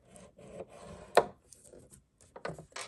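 A scoring tool scrapes along scrap paper strips for a junk journal, a few short close rubbing strokes with one sharper scratch in the middle, separated by quiet gaps.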